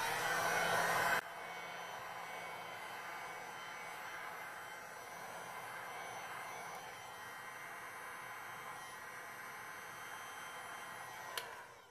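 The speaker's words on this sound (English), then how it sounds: "I'm going to use a heat gun now." A heat gun on a low setting blows a steady, quiet airy whoosh over resin art, running continuously after a brief louder burst at the start and ending with a faint click.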